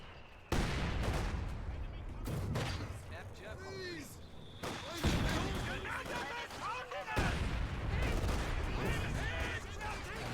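Bursts of MG42 machine gun fire and heavy explosions in a Company of Heroes 2 match, dense battle noise with booming impacts and rattling volleys mixed with game sound effects.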